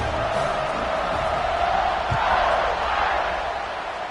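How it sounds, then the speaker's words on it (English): A football stadium crowd cheers and roars before a kickoff after a touchdown drive, a loud, sustained wash of voices that swells slightly midway and holds steady throughout. "this crowd is feeling themselves after that last drive"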